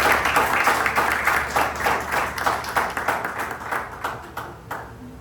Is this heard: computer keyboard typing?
no